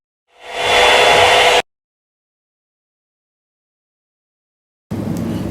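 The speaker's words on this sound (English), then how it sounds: "what the hell am I doing with a blow dryer on my phone" A hair dryer blowing on an iPhone: a loud, close, steady blast that runs for just over a second, stops dead, then starts again after a few seconds of silence.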